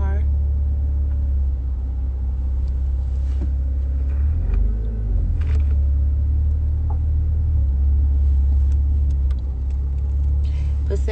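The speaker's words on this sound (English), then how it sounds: "Come on, you can go, little car." A small car's engine drones in a low, steady rumble from inside the cabin, with a brief swell of revving midway and a person talking over it.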